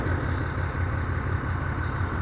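A 2006 Volvo truck engine idles with a steady, deep, rumbling throb, loud and close, running evenly without any talking.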